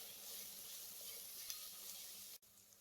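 Onions sautéing in a pan for mushroom biryani, a faint, steady sizzle with light stirring that cuts off abruptly near the end.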